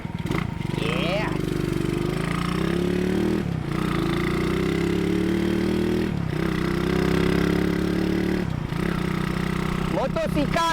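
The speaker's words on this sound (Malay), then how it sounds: "apa kata korang tengok motor ni, apa yang jadi bila saya bawa dekat track." A Seri Perlis motorcycle powered by a tuned Modenas Jaguar engine producing 14.8 HP rides on a track, its loud steady engine drone running continuously with slight rises in pitch and a few brief dips.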